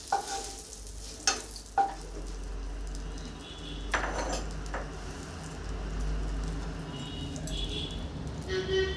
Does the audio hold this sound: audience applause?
no